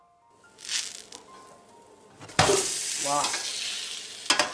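Scallion flatbread just flipped in a pan, sizzling and crackling up close with spatula stirs and scrapes, a soft burst of frying noise swelling midway, and a brief exclamation from a voice.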